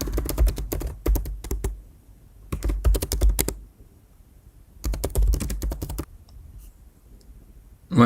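Bursts of rapid key clicks from a computer keyboard as card details are entered into an online payment form, coming in three separate flurries with quiet gaps between them, close and with no talking.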